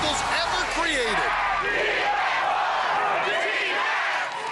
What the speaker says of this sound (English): the crowd seems divided, buddy. They're chanting for both of us